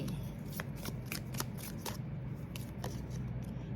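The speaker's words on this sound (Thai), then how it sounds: "ขอเปิดไพ่" Tarot cards being shuffled and drawn, a steady run of papery riffles and flicks close up, with a faint voice in the background.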